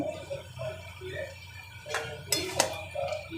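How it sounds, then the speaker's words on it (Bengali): Salt and turmeric are stirred in a cooking pot, giving a few sharp metallic clinks and scrapes near the end over quiet background sounds and faint voice-like murmur. "এবারে লবণ আর হলুদ দিয়ে দিলাম দিয়ে একটু নেড়ে দিই"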